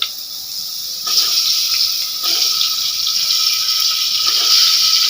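Diced potatoes dropped into hot oil with asafoetida in a home kitchen, a steady loud hiss and sizzle that flares in bursts as pieces go in, with no talking.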